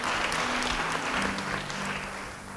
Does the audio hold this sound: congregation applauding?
yes